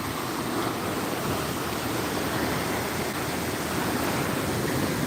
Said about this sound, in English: The waves are starting to come in now.